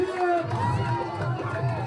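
A village crowd cheers and shouts in celebration as the winning team of a KPL cricket final rejoices, the noisy jubilation close and mixed with overlapping voices.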